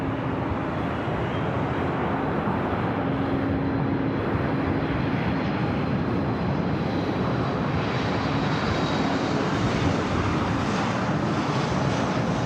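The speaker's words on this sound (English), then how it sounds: "little turn and burn action for Singapore. Flight 101 now heading back to Tokyo Narita." Singapore Airlines jet departing LAX for Tokyo Narita, a sustained broadband engine roar with a low hum threaded through, steady and fairly distant, some wind buffeting, no talk.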